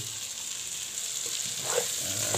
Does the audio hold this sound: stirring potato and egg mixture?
yes